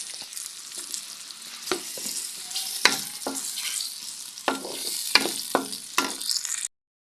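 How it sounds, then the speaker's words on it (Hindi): Sliced onions fry in oil on a stove for an aloo matar curry, a steady crackling sizzle broken by the scrape and clack of a stirring spoon at irregular intervals. "प्याज को हम गोल्डन फ्राई कर लेंगे।"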